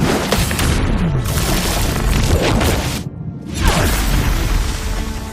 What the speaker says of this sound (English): when you successfully parry a string of attacks, you perform a counterattack